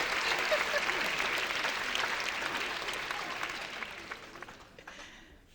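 Steady audience applause from a conference keynote crowd, dense clapping filling the space for several seconds and gradually thinning out toward the end.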